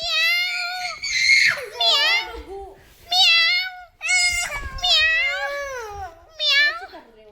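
A red cat meows repeatedly indoors, a series of drawn-out, rising and falling cries close to the microphone with short pauses between them.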